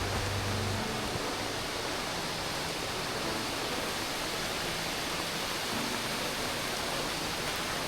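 Water rushing over rocks in a jungle stream during heavy rain, a dense steady hiss and roar, even and unbroken, fairly close and with no voices.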